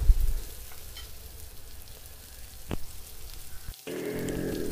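Sliced onion and curry leaves sautéing in oil for a tomato sambar, with a soft, low sizzle broken by a few sharp knocks, and a louder burst of frying near the end.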